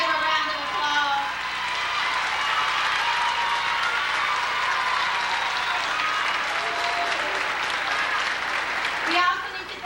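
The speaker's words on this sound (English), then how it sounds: "Seniors, can we give her a round of applause?" A high school graduation audience applauds Mrs. Brown with sustained, dense clapping that holds steady for several seconds and fades near the end, with some voices underneath.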